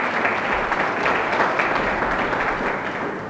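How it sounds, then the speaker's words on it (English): An indoor audience at a book release claps in steady, dense applause throughout, fairly close and evenly loud, with no speech over it. "Let's give them a big round of applause to all of them."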